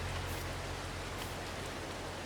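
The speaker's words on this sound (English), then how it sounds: "Oh no, it's raining." Soft, steady rain hiss in Farming Simulator 22 fills the whole stretch at an even level, with no voices or other distinct sounds over it.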